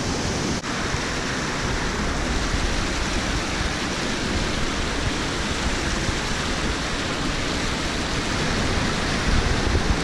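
Europe's tallest waterfall gives off a constant loud roar of falling water, an even wall of rushing noise heard up close with no talking.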